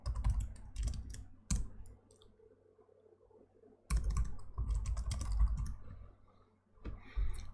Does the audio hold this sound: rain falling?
no